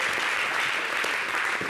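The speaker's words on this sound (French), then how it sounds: "On l'applaudit bien" Audience applauding a Christian singer on a French-language television show, a dense, even wash of many hands clapping at once, steady and moderately loud throughout.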